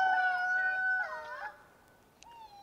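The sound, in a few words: rooster crowing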